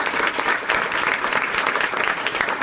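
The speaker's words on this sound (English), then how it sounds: "Let's give them another round of applause." A school district board meeting audience gives another round of applause for the students who sang; sustained, full-room clapping that stays loud and even throughout.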